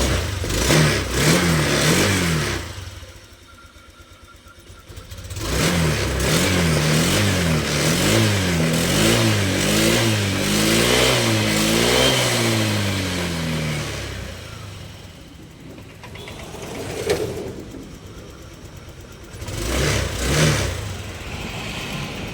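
A Honda Click 125 scooter engine, tested after its push button was replaced, starts and revs repeatedly, rising and falling in pitch through several throttle blips with idling gaps between, loud and close.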